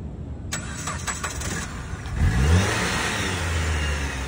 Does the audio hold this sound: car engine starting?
yes